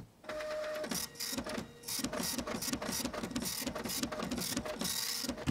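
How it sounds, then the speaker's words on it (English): A dot matrix printer hammers out lines in a fast, buzzing mechanical rhythm, with short pauses as the print head returns. Loud and close, with no voices. "I've just got the sound of a dot matrix printer."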